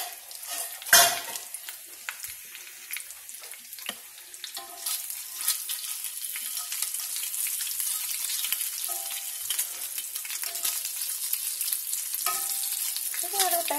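Bacon frying in a pan alongside other breakfast ingredients: a loud, close, continuous crackling sizzle that builds after an initial clatter and stays steady throughout, with no voices.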